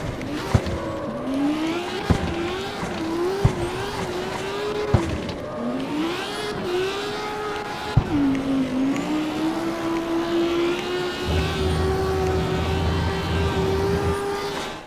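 A Lamborghini Huracán Evo engine in the racing video game CarX Street drones steadily, its pitch rising and dipping through shifts, with a few sharp clicks early on and a deeper rumble joining near the end.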